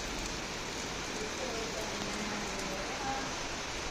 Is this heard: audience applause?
no